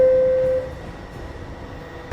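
A New York subway 1 train, R142-series cars, at 215 Street station: a brief steady tone sounds, then a low, even rumble as the train pulls out, ending with a sharp squeal.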